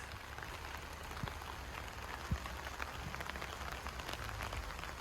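Steady rain falling on a campsite, an even hiss of drops pattering on surfaces with a few louder close taps, no voices.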